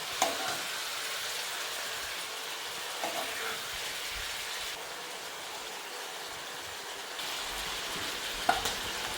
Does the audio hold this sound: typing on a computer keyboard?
no